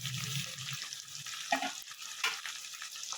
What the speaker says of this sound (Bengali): একসঙ্গে ভাজা ভাজা করলে বেশ গন্ধটা ভালো বেরোবে, যেহেতু গরম মশলা দেওয়া আছে